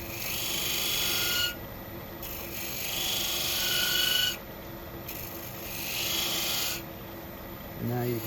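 A beading tool scrapes along a wooden edge in repeated strokes, each pass a close raspy scrape lasting a second or two, separated by short pauses.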